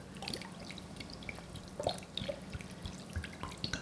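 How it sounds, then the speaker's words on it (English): Water, 1.5 liters, is poured into a cooking pot for Korean gamja-tang pork bone and potato stew, making a continuous close splashing trickle with scattered drips over a low steady hum. "Just pour the all water together."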